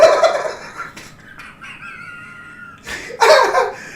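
A man imitates a fart with his voice: squeaky, rasping bursts that open loud, trail into a thin whine mid-clip, then blast out again near the end.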